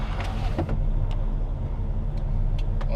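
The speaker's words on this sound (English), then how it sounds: "that's idling kind of rough" A semi truck engine idles roughly with a loud, steady low rumble and a few faint clicks and knocks on top.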